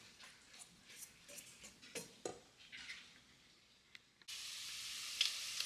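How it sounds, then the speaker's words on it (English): Bacon fries in a pan for chocolate chip bacon cookies, giving faint crackling pops and ticks. It shifts to a steady, louder sizzle near the end. "We want to fry this bacon up till it's good and crispy."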